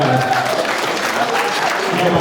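Comedy club audience applauding in a steady dense wash of clapping for about two seconds, with a voice speaking faintly underneath.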